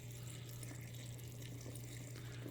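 Water pours steadily into a jar of 4% salt brine for pineapple habanero hot sauce, a close, even rushing flow over a low constant hum, with no talk.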